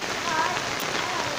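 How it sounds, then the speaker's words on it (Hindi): Heavy rain pours steadily onto surfaces outdoors in monsoon weather, a dense continuous hiss close by with no voices heard. "बारिश तेज़ हो रही है"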